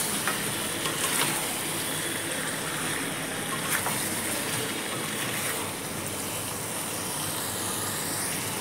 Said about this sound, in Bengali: এবার একটু ভালো করে নেড়ে দেবো।